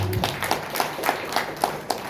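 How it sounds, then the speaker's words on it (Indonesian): A church congregation claps during a Sunday worship service, with sharp hand claps spaced about every quarter second in a steady rhythm, moderately near and moderately loud over the room's reverberant background. "Tepuk tangan bagi Allah."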